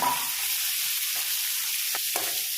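Onions and curry leaves frying in a pan, giving a steady, even sizzle that runs unbroken for a few seconds, with a couple of brief clicks of stirring near the end and no voices.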